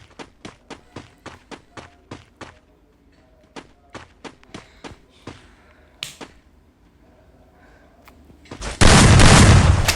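A video game battle with a fast series of sharp, punchy gunshots in quick rhythmic bursts, then scattered single shots, ending in a loud sustained whoosh or blast of noise.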